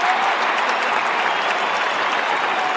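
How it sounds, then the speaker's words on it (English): Fans across an Australian football stadium applaud a goal by the Carlton forward in the North Melbourne match, a broad, continuous patter of clapping heard from a distance with no break. "Warm applause from the majority of the fans in the stadium."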